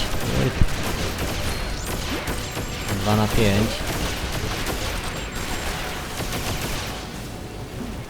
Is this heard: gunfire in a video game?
yes